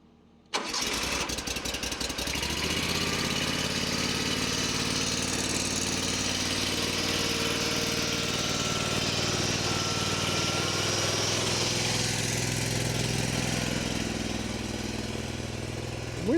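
A firewood processor's engine cold-starts with a rapid cranking burst, catches, and settles into a steady, loud, close idle that runs on unchanged.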